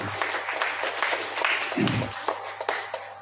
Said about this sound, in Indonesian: Kita beri aplaus untuk beliau.